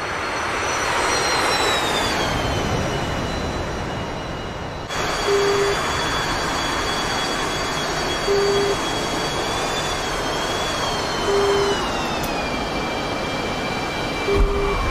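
A jet engine roars at high pitch as an F-117 Nighthawk lands on an aircraft carrier in the DCS combat flight game, with a sharp cut in the middle, a tone that slowly falls, and short beeps repeating at intervals, loud and continuous with no speech.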